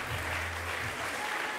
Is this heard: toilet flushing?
no